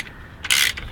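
A wrench working a bolt loose during bicycle drivetrain maintenance gives one brief, bright metallic ratcheting burst of clicks, close and fairly quiet, with near silence before and after.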